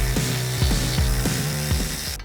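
A Hemi engine's flex plate bolts being tightened with a wrench during a Jeep Wrangler JL engine swap, a loud close run of repeated ratcheting clicks in an even rhythm over a steady mechanical drone.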